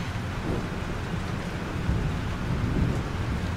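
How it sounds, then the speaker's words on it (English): Heavy rain pours steadily in a Life Is Strange thunderstorm, with low thunder rumbling underneath, dense and close throughout with no talking. "This storm is real."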